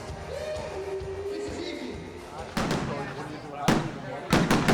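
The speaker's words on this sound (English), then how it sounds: "the evening ended with a fireworks celebration" Fireworks at an evening Lamborghini 40th anniversary celebration burst close by in loud, sharp cracks, three or four separate bangs spaced a second or so apart, following a stretch of murmuring crowd and talk.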